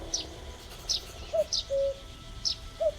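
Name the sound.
woodpecker bird sounds in a video game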